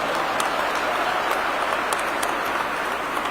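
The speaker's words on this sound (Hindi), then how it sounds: "अमित शाह जी भाई साहब का जोरदार तालियों से स्वागत और अभिनंदन करेंगे" A large audience at a hall event in Jaipur applauds to welcome India's Home Minister Amit Shah, a steady, dense wash of clapping held at even loudness throughout.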